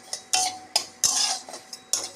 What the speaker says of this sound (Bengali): কালো জিরেটা একটু খালি কড়াইতে আমি ঢেলে নিচ্ছি।